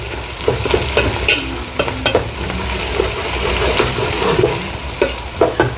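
Onions sautéing in a pan for crab curry, a loud, close, steady sizzle punctuated by repeated scraping and tapping strokes of a stirring spoon.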